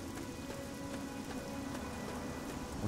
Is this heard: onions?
no